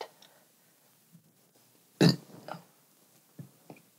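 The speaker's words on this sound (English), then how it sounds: "Nervous burps." A single throaty burp of nervous tension, close and fairly loud, followed by a few fainter guttural gulps and small throat sounds in an otherwise quiet room.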